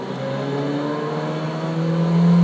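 Car engine in Forza 2 on Xbox 360, a continuous smooth drone with steady harmonic tones that rise in pitch and loudness toward the end as the car accelerates, alone with no talk.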